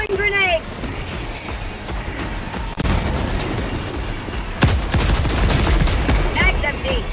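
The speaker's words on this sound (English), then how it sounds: "Throwing grenades!" Grenade explosions and heavy gunfire in a video game: bursts of rapid shots punctuated by sharp booming blasts, loud and close, with game voices and chirping electronic effects over the battle.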